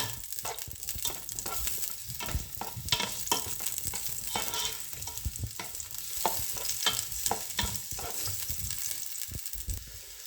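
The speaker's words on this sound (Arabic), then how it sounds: "نحط فيه بصله مقطعه اجنحه، خليوها حتى تتحمر" Sliced onions fry in a pot with steady crackling sizzle and occasional stirring scrapes, close and continuous with no voices.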